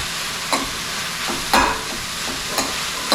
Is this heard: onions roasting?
yes